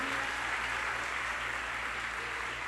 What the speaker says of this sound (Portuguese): Dê um aplauso mesmo ao Senhor